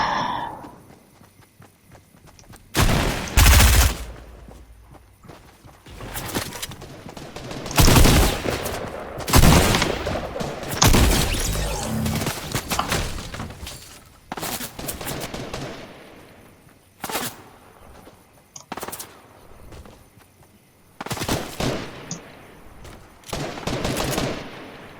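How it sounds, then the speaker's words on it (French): Gunfire in the Fortnite battle royale game, coming in loud separate bursts and rapid volleys broken by quieter gaps, with scattered shots and movement noise in between. "ça tire dans tous les sens"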